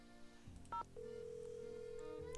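Cellular phone in the Nancy Drew game Secret of Shadow Ranch being dialed: a short double keypad tone, then a steady dial tone that holds over low background music.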